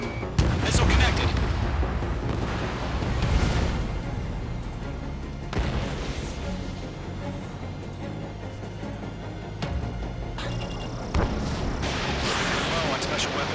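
Missile strikes in Ace Combat 7: Skies Unknown, heavy booming explosions rolling over a constant loud jet engine roar, several sharp bursts spaced a few seconds apart, with radio voices talking throughout.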